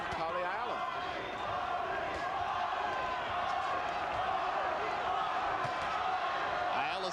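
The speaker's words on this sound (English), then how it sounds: "Ayala's crowd from Fort Worth, Texas, chanting Paulie, Paulie, Paulie." Dense arena crowd at a boxing match in Fort Worth, Texas, roaring and chanting a fighter's name, a steady loud wash of voices with a commentator talking over it.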